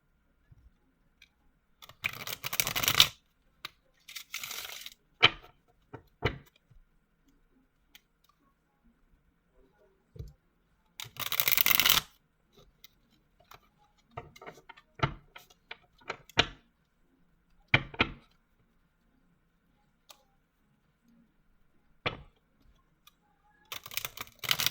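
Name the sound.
shuffling cards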